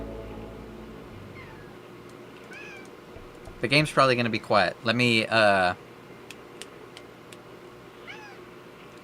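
A cat meows and cries loudly in a burst of several drawn-out, wavering calls close by, while a person talks quietly before and after over faint game sounds.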